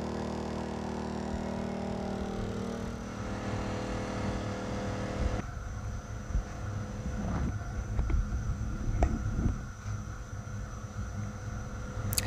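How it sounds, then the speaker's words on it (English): A Honda 2000i or Predator 2000 watt inverter generator running under roughly 1500 watts of heat gun load, a steady close motor drone with wind noise and a few knocks and clatters partway through, with no talking. "then we'll go do a sound check with the generator under load"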